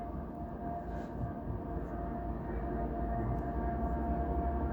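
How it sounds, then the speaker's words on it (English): A train rumbles past nearby with a steady low roar and tonal hum that builds slightly louder over several seconds, heard alone without talk. "Here come another train."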